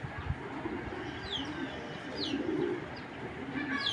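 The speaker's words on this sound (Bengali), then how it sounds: "অনেক সুন্দর একটা কবুতর" Several pigeons coo in low, rolling murmurs among a flock, with occasional sharper chirps over a constant background hum.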